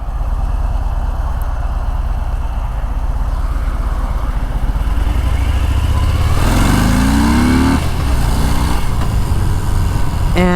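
A Harley-Davidson Fat Bob 114 cruiser motorcycle rumbles at low speed, then its engine note rises in a loud, close acceleration as the bike pulls away, with a brief gear change partway through.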